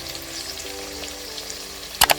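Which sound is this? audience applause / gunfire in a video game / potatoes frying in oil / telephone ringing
potatoes frying in oil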